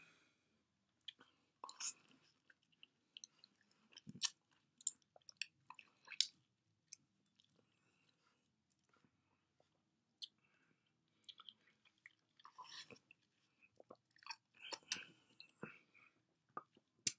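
Someone chews a sour lemon close to the microphone, producing faint, sporadic wet bites and squishes scattered through a quiet stretch.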